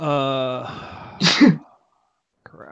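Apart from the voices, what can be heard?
sneeze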